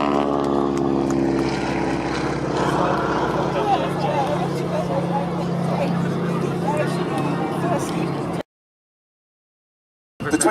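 A propeller aerobatic aircraft from the Trig aerobatic team performs at the Biggin Hill airshow, its droning engine loud and steady over crowd chatter and voices, then a sudden cut to silence near the end.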